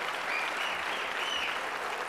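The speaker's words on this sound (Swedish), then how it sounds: "Så jag tycker vi kan ge kören här bakom också. Eller gruppmedlemmarna här bakom en stor applåd också." Audience applause at the 1992 Melodifestivalen song contest, cheering the choir and backing group: a dense, sustained wash of clapping from a large crowd at constant loudness, with faint cheers or whistles on top.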